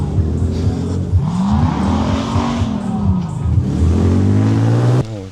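An off-road car's engine revs hard in mud at an off-road competition in Surebi, Georgia, the pitch climbing and falling in close, loud surges before cutting off abruptly.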